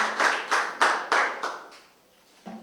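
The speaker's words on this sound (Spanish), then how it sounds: "Damos un aplauso al Señor por su amor, por su bondad." A church congregation at a Spanish-language Sunday service claps in a slow, loud unison rhythm of about six beats that fades out, followed by a faint voice at the end.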